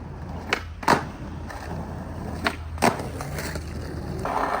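Skateboard switch flip trick attempts: wheels rolling over pavement broken by several sharp board pops and clacking landings, close and distinct, with rolling noise building again at the end.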